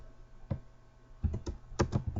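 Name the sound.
typing on a computer keyboard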